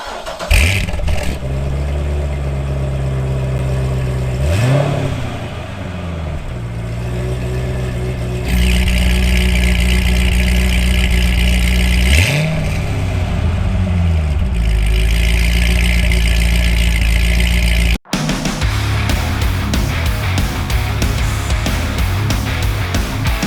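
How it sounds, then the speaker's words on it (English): Chevrolet Corvette Z06 with an LS7 engine running while driving: a loud, close, continuous engine drone with two rising rev sweeps as it accelerates through gears, then a brief cut and a rougher steady tone after. "I fired up my Z06 and headed over to Boost Addicts in Madison, Tennessee"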